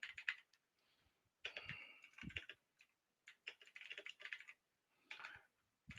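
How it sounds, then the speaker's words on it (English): Rapid typing on a cheap Temu computer keyboard, with close, clattery keystrokes in uneven bursts and brief pauses between runs, loud against an otherwise quiet room. "Oh, I'm typing a message real quick."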